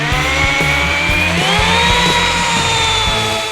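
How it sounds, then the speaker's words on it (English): A power buffer polishing a car body, a loud continuous motor whine that shifts pitch slightly as pressure changes, with a low pulsing rumble underneath, close and unbroken. "So I'm gonna get back to buffing now."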